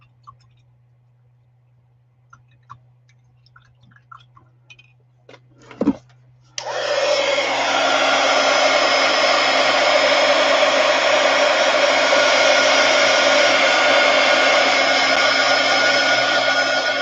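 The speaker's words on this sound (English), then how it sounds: "I'm going to get my heat gun." Heat gun drying acrylic paint on a handbag being hand-painted with flowers, switching on after a few quiet clicks and handling sounds and then blowing steadily and loudly with a constant airy roar and a low hum.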